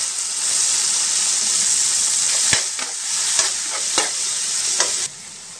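Jellyfish with onion and garlic cooking in a pan give a steady, close sizzle and bubbling, with several sharp scraping stirs before the sound drops away near the end.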